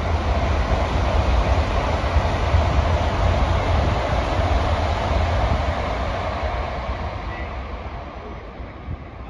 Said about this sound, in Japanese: 新幹線が轟音を轟かせて通過していきました